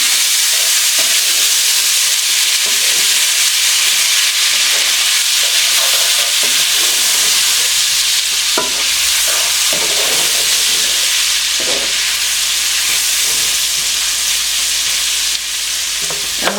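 Steak sizzling loudly in a hot pan as it is stirred, a steady bright frying hiss with scattered scraping clicks from the utensil, close and continuous with no talking.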